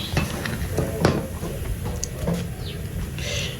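Jollof rice being scooped from one cooking pot into another, giving close metallic spoon scrapes and pot clinks at an irregular rhythm over a low background rumble.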